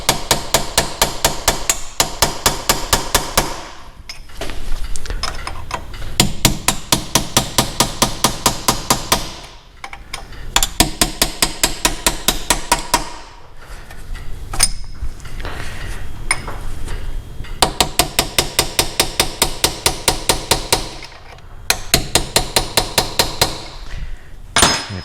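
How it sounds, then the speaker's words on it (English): Rapid, ringing metallic hammer blows strike a cold chisel against a sturdy washer on an Austin-Healey 3000 rear axle, in fast bursts, pausing briefly between runs of sharp, loud, close impacts. "with something like this, a cold chisel and a hammer, we'll get it started."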